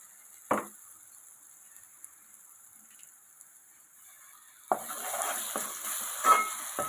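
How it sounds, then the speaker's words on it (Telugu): Onion and ground masala paste fry in a hot pan. A single clank is followed by near quiet, then a loud, steady sizzle begins with scraping stirs running through it. "మసాలా వేసాక కూడా ఒక 2 నిమిషాలు మసాలాని వేగిద్దాం."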